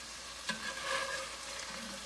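Sausage frying and being scooped in a hot pot for jambalaya, a steady close sizzle with a sharp scrape or clack near the start and soft stirring movement throughout.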